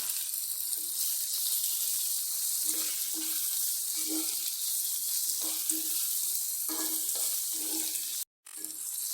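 Chicken pepper fry with green chillies sizzles steadily in a pan, with a bright, constant hiss close up and faint scraping stirs now and then, interrupted by a brief drop near the end.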